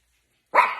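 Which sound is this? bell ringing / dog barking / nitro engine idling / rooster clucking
dog barking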